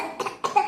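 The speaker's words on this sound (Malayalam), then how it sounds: "ചുമ ചുമ ഭയങ്കര ചുമ." Two quick, close coughs sound one after the other in under a second.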